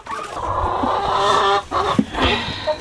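Chickens and a rooster cluck and squawk inside a coop, a few sharp, close calls over a steady busy chatter in a short burst.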